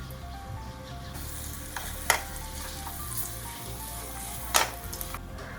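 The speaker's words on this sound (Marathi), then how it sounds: "त्याच्यामध्ये आपण 2 चमचे तूप घालून त्या तुपावर खजूर भाजून घ्यायचे आहे" Dates roast in two spoons of ghee in a pan, making a soft steady sizzle with two sharp spatula clinks and light stirring scrapes, close and without talk.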